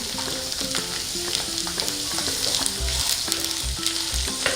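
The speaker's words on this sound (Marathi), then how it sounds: "असे दाणे भाजून झालेले आहेत" Peanuts roasting in a pan for a mixed vegetable dish, a dense close crackle and sizzle with repeated rattling stirs and several dull thumps of the spoon against the pan.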